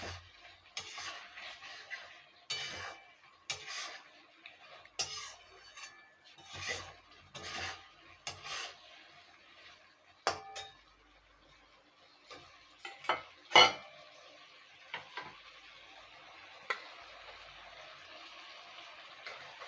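Prawns with potato and pointed gourd in masala are stir-fried in a pan, heard as repeated close scraping and rubbing strokes of a spatula in an uneven rhythm, with occasional sharper clinks and a faint sizzle underneath.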